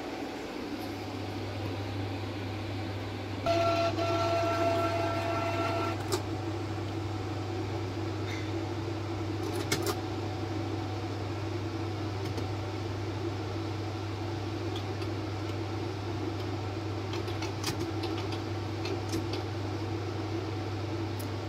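A Canon G2012/G3010 inkjet printer, just freed of a jammed plastic piece, powers up and initializes with a steady low mechanical hum, a brief burst of whirring carriage motion early on and a few faint clicks.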